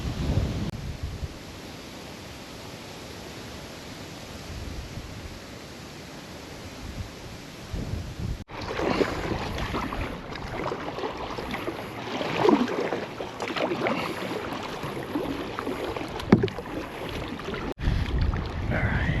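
Solo kayak paddling on open ocean toward a remote island off Maine: steady wind and water wash with intermittent splashes and paddle strokes, a broadband rush that stays fairly even throughout, with no talking.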